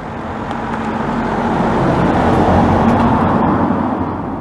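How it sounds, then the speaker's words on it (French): A car passes by on the road nearby, its broadband roar swelling to a peak midway and then fading slightly, loud and close with no voices. "une voiture qui passe"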